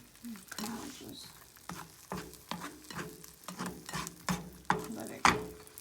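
An egg frying in butter in a pan, with a soft ongoing sizzle broken by repeated sharp scrapes and taps of a utensil against the pan.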